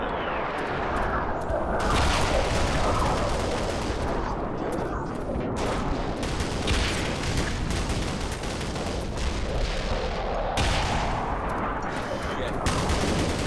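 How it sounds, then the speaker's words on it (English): Sustained gunfire in the Black Mesa video game, rapid continuous shots and bursts at close range filling the whole stretch, loud and dense with booming impacts mixed in. "Let's shoot him from here this time."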